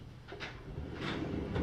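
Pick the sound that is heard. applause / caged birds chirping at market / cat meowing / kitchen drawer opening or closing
kitchen drawer opening or closing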